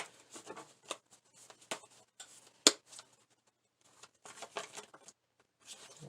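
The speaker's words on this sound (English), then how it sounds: "I know that I need to shuffle." Tarot cards shuffled by hand during a reading, heard as soft, close riffling and papery slides in short bursts separated by quiet pauses, with one sharper snap midway.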